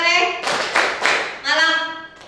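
Children clap hands together in a classroom game, a few sharp claps in rhythm alongside a voice singing or chanting over them.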